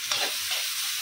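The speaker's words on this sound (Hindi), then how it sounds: "फटाफट सॉटे कर लेंगे" Onion and capsicum sauté in a hot pan for Manchurian and Schezwan fried rice, giving a close, continuous sizzle broken by soft stirring scrapes.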